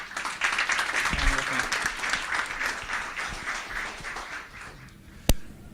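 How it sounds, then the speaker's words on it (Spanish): Sustained audience applause welcoming a speaker at a Latin American and Caribbean innovation labs event, dense clapping throughout with a murmur of voices underneath, tapering slightly before a sharp knock near the end. "Y lo recibimos, por favor, con un gran aplauso"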